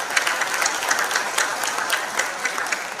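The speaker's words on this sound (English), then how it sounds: "So a huge round of applause to all those films." An audience at the FICCI Frames 2024 event applauds, a dense, loud, continuous clapping that holds steady for a few seconds without voices.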